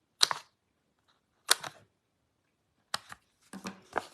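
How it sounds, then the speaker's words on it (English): Paper being chopped while a handmade card is made gives several sharp, crisp cuts in short bursts, close and clear, separated by silence, with the last few coming quicker together. "So this is when I just do a little bit of chopping."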